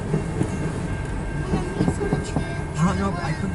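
A CN freight train, likely hauling auto racks, rumbles past at a grade crossing in Port Huron, Michigan, with steady rolling clatter and faint wheel rhythm; people talk over it throughout.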